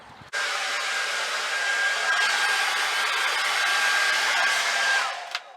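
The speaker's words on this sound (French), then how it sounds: "Et le petit plaisir c'est d'avoir un sèche-cheveux." Hair dryer running steadily at close range in a camping-car, a loud continuous whooshing blow that starts abruptly and cuts off near the end, with no talking.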